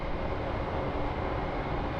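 Steady broadband roar of a passenger airplane at Phoenix Sky Harbor International Airport, continuous and fairly loud with no gaps, as if the aircraft is powering along the runway nearby.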